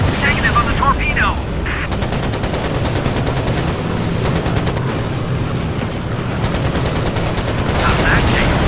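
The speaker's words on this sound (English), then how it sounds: "I'm being fired upon! The machine gun's nearly empty!" Rapid gunfire and explosive bursts from combat in the World War II air game Air Conflicts: Pacific Carriers, dense and continuous over engine rumble, with a voice calling out in the mix.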